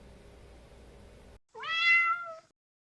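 A kitten gives one loud, close, drawn-out meow lasting about a second, rising then falling in pitch, heard after a low steady hum cuts out in a kitchen where fish is being prepared for frying.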